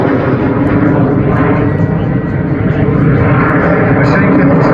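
A Cessna A-37B Dragonfly jet flies past at a 2024 Central Coast airshow, a loud sustained roaring whine close by, with a commentator's voice over it.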